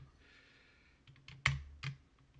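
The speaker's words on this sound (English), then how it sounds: "I started typing and then forgot what I was typing" Someone typing on a computer keyboard, with a few soft key presses and then two sharper clacks close by, in an otherwise quiet room.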